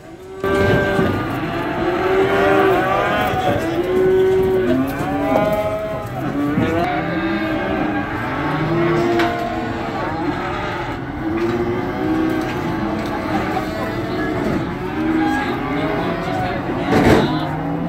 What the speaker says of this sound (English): We watched the cattle arrive into the stockyard, and then we went inside to see some of the action.